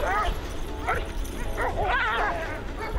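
Sled dogs yip and bark in short, excited bursts over a steady background, with a voice audible among them in the cold Yakutsk setting.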